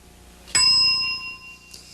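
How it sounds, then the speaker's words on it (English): A single bright bell strikes once and rings out with a clear, sustained tone that slowly fades, followed by a faint second tap. "starts at the sound of the bell."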